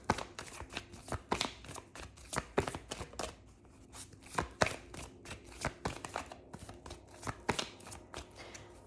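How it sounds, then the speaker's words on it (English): Tarot cards being shuffled by hand, a steady run of sharp riffling snaps and soft slides repeating every half second or so, close and fairly quiet with no voices. "I know when to stop shuffling because the cards actually change sound"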